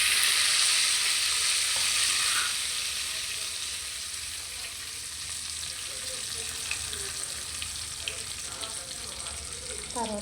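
Ingredients frying in hot oil for a home-cooked biryani, a steady hiss and sizzle that starts loud and eases slightly, with faint clinks and scrapes near the end.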